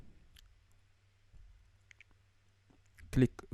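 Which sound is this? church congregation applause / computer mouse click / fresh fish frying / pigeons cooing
computer mouse click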